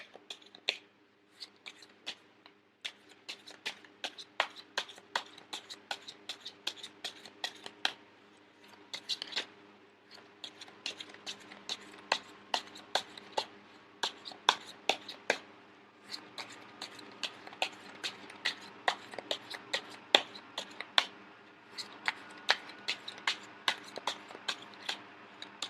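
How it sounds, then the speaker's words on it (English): Tarot cards riffled and shuffled by hand in a steady run of crisp, papery flicks and snaps over about 25 seconds, close and fairly quiet, with brief pauses between bursts and no talking. "I am going to shuffle until the first card pops out"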